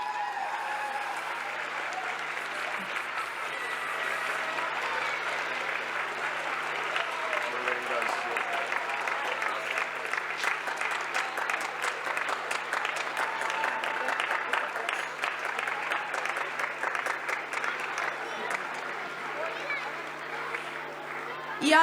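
A large concert audience at a spring festival applauds steadily for about twenty seconds, dense clapping holding at an even level throughout with a faint crowd murmur beneath and no voice on top.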